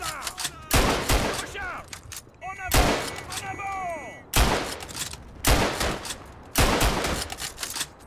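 Bursts of gunfire in the World War I shooter game Verdun, loud and close, arriving in roughly four separate volleys with ringing echoes and clatter between them.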